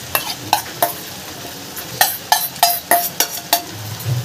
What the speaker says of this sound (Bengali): এবার মাছ দিয়েও ভালো করে এবার কষিয়ে নেব।